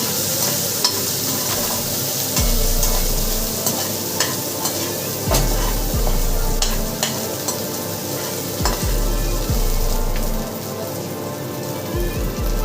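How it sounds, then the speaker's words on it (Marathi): Chopped cabbage and fresh green peas are tossed in a hot pan over high flame for fried rice, giving a steady loud sizzle with repeated scraping and clanking strokes of the spatula, close up and with no talking. "यानंतर बारीक कापलेली कॅबेज टाकून हाय फ्लेमवरच टॉस केलेलं आहे."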